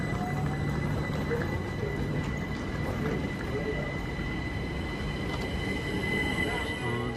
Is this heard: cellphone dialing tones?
no